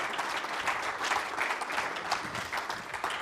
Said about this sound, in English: Could be a little bit more applause